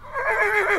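A tall, lean thoroughbred piebald mare neighs in one short whinny lasting under a second, loud and close, with no voices.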